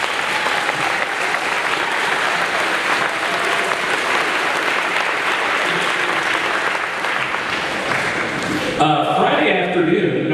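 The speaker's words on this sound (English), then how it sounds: "I want a round of applause for all the teachers and faculty of St. Patrick" An audience applauds the teachers and faculty of St. Patrick after a school production of The Music Man, a loud, sustained clapping that stops abruptly near the end, leaving a brief quieter tail.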